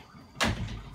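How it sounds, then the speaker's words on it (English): An indoor door swings shut with a single short thump, fairly close and moderately loud, followed by a brief room decay with no talking. "Close the door."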